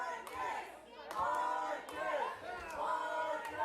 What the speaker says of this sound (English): As the crowd tries to rally behind Spitfire Marcus Johnston here.